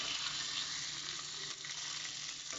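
Ingredients for a homemade hamburger fry in oil in a pan, giving a steady, loud, close sizzle with no pause and no voice.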